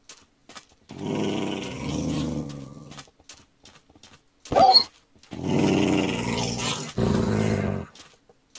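Dog growling in the Minecraft video game, two long rumbling growls separated by a short sharp burst, then a third growl, loud and close with no talk over them.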